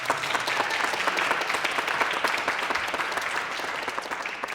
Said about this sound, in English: could we have a round of applause, please,